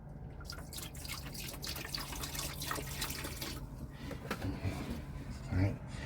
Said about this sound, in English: And then we're going to pour some in the toilet.